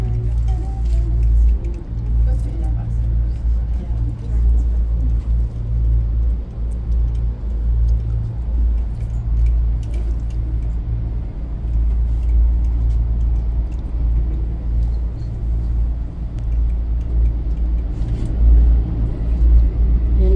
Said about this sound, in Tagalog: going down inside the truck